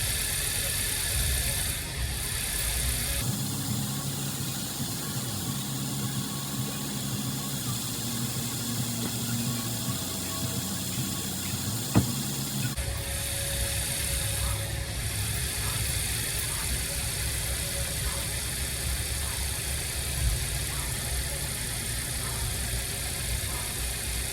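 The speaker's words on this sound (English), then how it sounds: "Compressor is running" A Chevrolet Camaro SS engine idles with the AC compressor running, a continuous mid-pitched hum whose tone shifts a few times as the compressor cycles, with a couple of small clicks.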